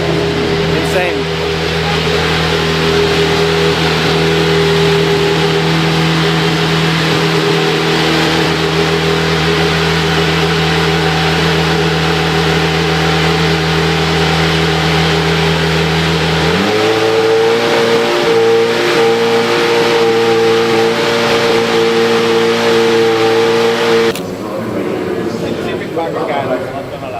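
A Le Mans race car built with two rally engines and two turbos drones loudly and steadily up close, its engine note holding then stepping up in pitch as it accelerates, with speech over the top.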